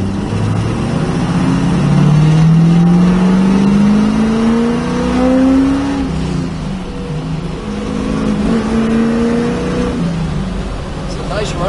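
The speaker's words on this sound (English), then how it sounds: "It's a nice running car. Really nice running Z28." A 1974 Chevrolet Camaro Z28 engine rises steadily through the gears while driving, a rumbling tone climbing and settling before pulling again, heard from inside the car with talking mixed in.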